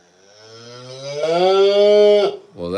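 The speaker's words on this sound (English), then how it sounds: "that's a calf right there" A single loud, drawn-out calf moo rises and holds, then breaks off, followed by the start of another short bleat.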